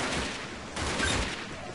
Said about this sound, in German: Ist so eine Art schnell schießendes Snipergewehr.